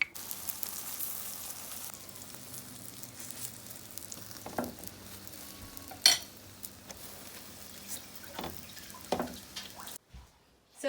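Potato roti cooking on a stove in a Guyanese home kitchen, a soft continuous sizzle with occasional sharper pops and scraping touches, fairly quiet, ending with a short silence.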